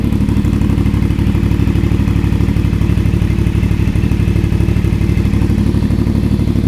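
An FB Mondial Piega 452 motorcycle with its stock dual exhaust running steadily close by, giving a loud, even, throbbing engine rumble with no pauses.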